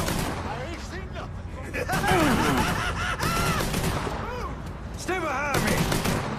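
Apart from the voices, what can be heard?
gunshots in the video game Mafia 3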